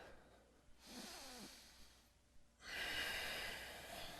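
Deep breathing during a yoga exercise, heard up close: a soft, brief inhale followed by a longer, louder rushing exhale, with no talking.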